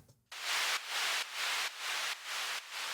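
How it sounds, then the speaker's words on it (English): Bright hissing synthesized white noise swells in repeated pulses, about six bursts with brief dips between them, steady and loud, in a melodic techno track. "have another little white noise thing that happens right there"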